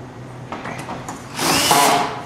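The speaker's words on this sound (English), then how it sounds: "You drive a screw into them." A power drill drives a screw into a pre-drilled metal reinforcing bar: quiet handling at first, then a loud whirring burst of about a second that winds down at the end.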